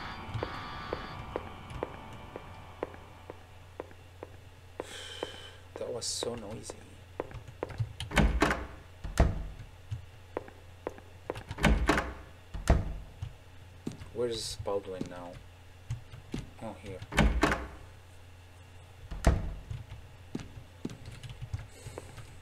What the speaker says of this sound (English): They're not letting me open the freaking door.